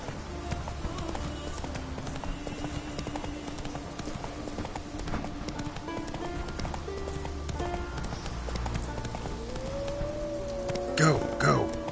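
The horse Roach in The Witcher 3 gallops with steady, rhythmic clip-clop hoofbeats, mixed with game music and ambient tones, and a rising whistle-like sound near the end.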